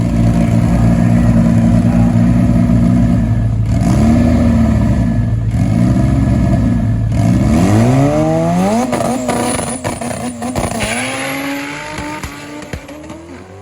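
A drag race car at Sacramento Raceway roaring off the line and accelerating through its gears, loud rising engine sweeps with a tire chirp, fading as it runs away down the strip.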